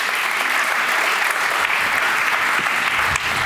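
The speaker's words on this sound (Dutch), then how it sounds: "Geef ze een warm applaus." An audience at a city arts and culture talk in Amsterdam claps in warm, steady applause that holds at an even level throughout, with no voices over it.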